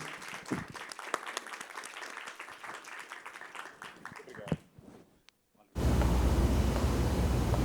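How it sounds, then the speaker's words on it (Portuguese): Audience applause at a live talk-show event at a book fair, loud, continuous clapping from a crowd that swells, fades briefly, then returns strongly at the end. "Palmas para o Carlos Marcelo, muito obrigado pela sua presença aqui"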